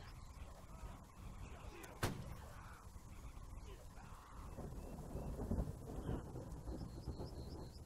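Cannon fire in the musket-era battle game Holdfast: Nations At War: one sharp, heavy boom cuts through a steady rumbling din of battlefield noise that swells and continues around it.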